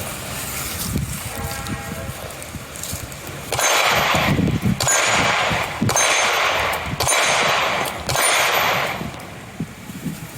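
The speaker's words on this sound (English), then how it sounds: "Gonna shoot a Baretta APX for the first time." A Beretta APX 9mm pistol fired at a range, several loud sharp reports at an even pace, each ringing out briefly before the next, with no talking between shots.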